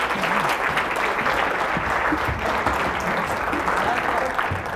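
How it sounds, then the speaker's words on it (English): An audience at a motivational keynote breaks into a big round of applause for the speaker, steady dense clapping filling the room throughout. "Let's give a big round of applause for Clay."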